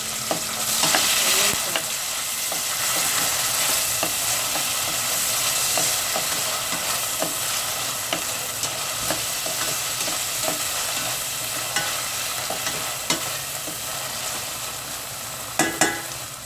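Garlic frying in a pan for Bicol Express, a long, even hiss and sizzle with scattered pops and a few louder clatters near the end, heard alone without talk.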